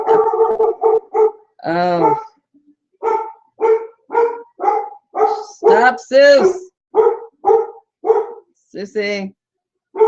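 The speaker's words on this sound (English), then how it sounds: "That's just my dog, you know, she's going crazy." A dog barks in a rapid series of loud, close, sharp barks with short pauses between bursts, and a person briefly speaks among them.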